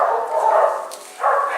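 Dogs at a kennel bark and yowl loudly and close by in two sustained bursts with a short dip between them.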